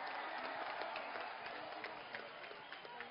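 A large outdoor crowd at a Lokpal Bill protest rally claps continuously, a dense, sustained wash of applause heard from a distance at low level.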